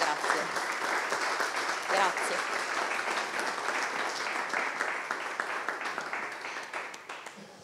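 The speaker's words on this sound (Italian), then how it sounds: "Applausi." Audience applause follows a thesis presentation on crimes against animals, a dense, sustained wash of many hands clapping at once that holds steady and slowly fades toward the end.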